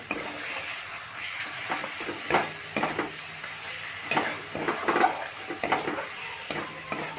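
Kashmiri chilli powder is sautéed in a pan for an ol stem and mourala fish dish. A soft sizzle runs under repeated scraping and stirring strokes from a spatula, with no talk.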